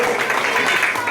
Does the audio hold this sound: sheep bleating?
no